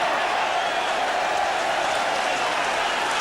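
Football stadium crowd at a 1984 Division One match between Luton Town and Manchester United, a broad, loud roar of cheering and applause sustained throughout.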